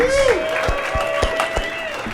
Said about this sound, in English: Round of applause, Taylor Knox.